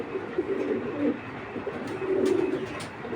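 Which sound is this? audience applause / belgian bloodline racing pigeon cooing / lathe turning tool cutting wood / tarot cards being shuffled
belgian bloodline racing pigeon cooing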